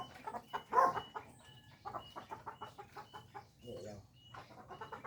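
Chickens on a farm cluck in rapid, choppy bursts close by, with a few louder squawks rising over the steady clucking and some faint voices in the background.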